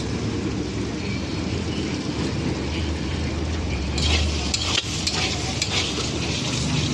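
Pumpkin curry stirred in a pan with a little sugar, a dense sizzle under rattling, scraping spatula strokes that grow brighter and louder partway through.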